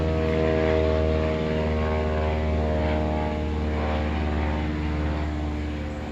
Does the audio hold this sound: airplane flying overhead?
yes